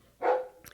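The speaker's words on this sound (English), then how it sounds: "That's my dog Jasper barking" One sharp, close bark from a dog, sounding alone in a quiet room and ending with a faint trailing sound.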